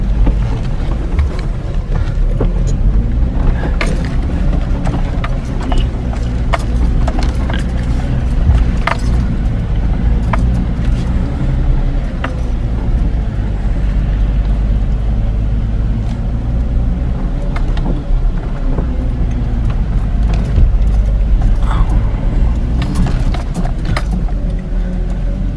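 Off-road vehicle engine drones steadily on the Sasquatch Trail at Wild Cat Off Road Park, a loud, continuous close-up motor hum with throttle changes, rattling and occasional knocks from the rough terrain.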